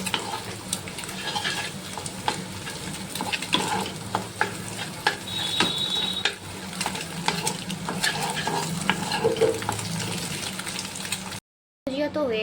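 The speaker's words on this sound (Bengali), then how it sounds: "ডিম দুটো দিয়ে দিয়েছি, এবার এটা ভুজিয়াটা বানিয়ে ফেলি।" Two eggs for bhujia fry and sizzle in a pan while a spatula stirs and scrapes, clinking repeatedly over a steady crackle. Brief pauses break the sound, and it cuts out just before the end.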